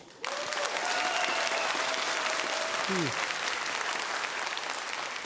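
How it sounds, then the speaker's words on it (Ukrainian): Audience at a comedy show applauds loudly and steadily, the clapping swelling in after a brief quiet start, with a short tonal whistle-like sound heard over it. "Але люблю, як ви плещете."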